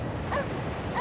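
A single faint yip from a dog in the video game Cryostasis, with the start of another at the end, over steady background noise.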